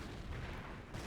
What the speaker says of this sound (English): registered artillery being called on down on the command point